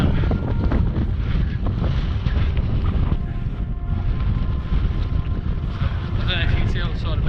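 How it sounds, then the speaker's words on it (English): Strong wind batters the microphone on a mountain ridge of the Pen y Fan horseshoe in the Brecon Beacons, a loud, continuous buffeting roar with rumbling gusts throughout. "So we passed that section, but it is still quite windy."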